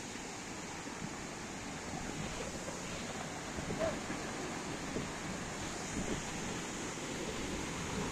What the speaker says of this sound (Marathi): पाणी कसं पडतंय बघा